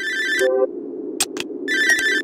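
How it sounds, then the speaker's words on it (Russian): An old-style telephone rings in the Cry of Fear horror game, giving two loud trilling bursts separated by a short pause, close and clear over a low ambient drone. "Серьезно, телефон звонит?"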